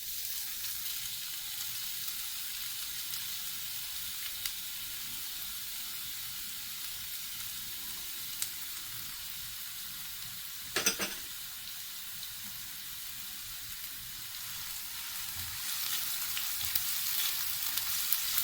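Chopped onions sizzle in oil in a frying pan over a low to medium flame, a steady soft hiss with one brief clatter partway through and no talking.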